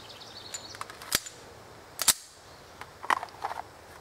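SIG P229 DAK pistol fired at a shooting range, a few sharp shots with irregular spacing, distant and fairly faint over a quiet background, with small clicks and rustles between them.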